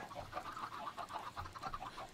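Chickens in a video game clucking in quick repeated bursts, a soft rhythmic run of calls at low volume with no speech.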